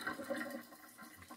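Water swished around in a container to rinse loose tea leaves, a short close sloshing rush that slowly fades, alone without talk.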